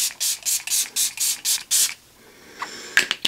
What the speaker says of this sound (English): Starting with the KOSAS Serum Spray,